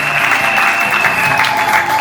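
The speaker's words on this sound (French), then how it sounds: "Applaudissez pour la famille de Papa John," Wedding guests applaud the family of the groom's father at a wedding reception, a steady wash of clapping with continuous music tones sustained underneath.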